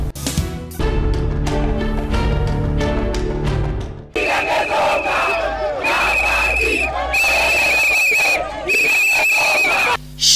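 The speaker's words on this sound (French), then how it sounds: "Chants, sifflets, différentes sortes de légumes à main, cris de détresse et prières" Protesting vegetable farmers in Kinshasa chant loudly in unison, then shrill whistles cut through the crowd noise in repeated blasts over continuous shouting.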